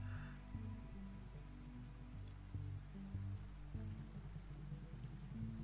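Steady soft rain falls in a video game, a continuous faint hiss of drops with low background hum and no voices.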